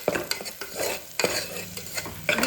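Onions and turmeric fry in a pan for mutton chops while a utensil stirs them. Sharp scraping strokes come at uneven intervals over a soft, steady sizzle, recorded up close with no talking.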